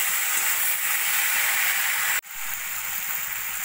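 Small mourola fish frying in a pan with salt, turmeric, Kashmiri chili powder and slit green chilies give off a steady, fairly quiet sizzling hiss that drops out for an instant, then carries on with no voices.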